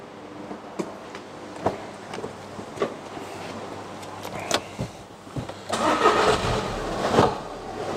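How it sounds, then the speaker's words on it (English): An engine cranks and catches, settling into a steady idle after a few clicks and knocks, close by with no talking. "We'll go and start the engine now."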